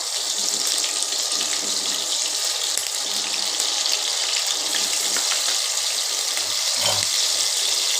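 A steady, close gush of water pours continuously into a pan of figs being cooked in a Bengali vegetarian dish, with no talking over it.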